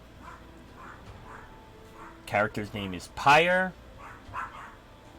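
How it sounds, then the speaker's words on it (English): Dogs bark indoors in two loud bursts of several overlapping barks in the middle, close to the microphone, while someone talks before and after. "And I do apologize for my dogs barking."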